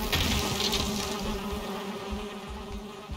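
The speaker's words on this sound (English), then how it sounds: "We got some bees." Bees buzzing around a beehive in the survival video game Valheim, a steady, dense insect drone that holds at an even loudness throughout with no talking.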